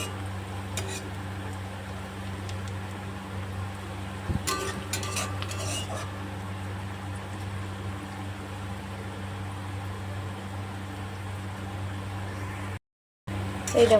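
Onions fried reddish-brown and soft in a pan, heard as a faint low frying hiss over a steady hum, with a cluster of spatula scrapes and clinks against the pan partway through.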